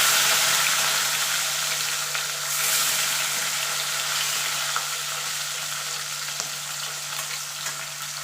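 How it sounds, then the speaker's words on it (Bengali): Fish pieces fry in hot oil in a wok seasoned with a little salt, giving a steady, loud crackling sizzle that runs unbroken for the whole stretch, with no talking. "এবার আমি একটা একটা করে দিয়ে মাছগুলো ভেজে তুলে নেব"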